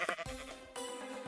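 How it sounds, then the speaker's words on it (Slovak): Sheep bleat from a video game in a short, close burst, one wavering call followed by a second sustained bleat with no talk over it. "keď začalo svítať, tak sme našli ovce."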